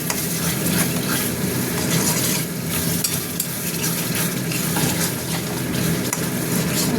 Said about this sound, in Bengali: আমি একটু কড়াইশুঁটিগুলো দিয়ে দিলাম, ওর সঙ্গে একটু করবো, ভাজা ভাজা করবো